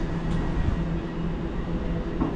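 Steady low rumble of a train with rail clatter and faint squeals, heard close and continuous, no one speaking.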